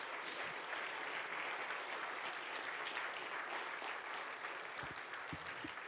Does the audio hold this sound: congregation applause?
yes